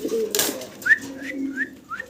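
A pair of grizzle-coloured racer pigeons gives soft low coos mixed with four short rising whistle-like notes, close by in a quiet space.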